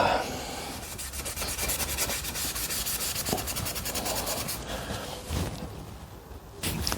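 Hand rubbing down the paintwork on a Honda NTV 650 cafe racer motorcycle in a garage, a continuous close, gritty scraping of abrasive over the surface with a steady back-and-forth rhythm.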